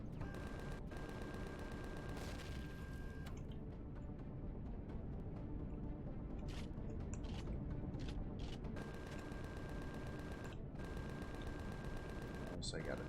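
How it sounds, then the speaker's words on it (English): Gunfire aimed through a wall in the space-survival game Empyrion Galactic Survival, with rapid bursts of shots running nearly continuously over a dense, loud mechanical rumble, broken by a few short gaps. "Let's try to shoot through the wall."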